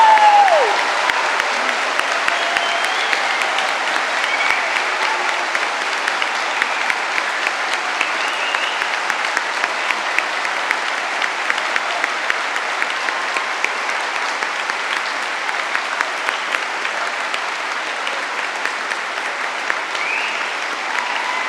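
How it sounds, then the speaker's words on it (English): A large audience at an Open University degree ceremony in London gives graduates a long, steady round of applause, dense and continuous without a break, filling the hall. "let's start the ceremony by giving all of our amazing graduates a"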